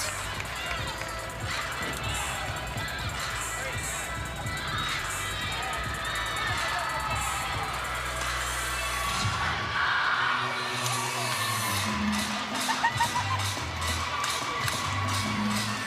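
Gymnastics meet crowd at North Carolina vs Clemson cheering and clapping during a floor routine dance break, sustained arena noise with music-like throbbing, then sharper rhythmic claps near the end.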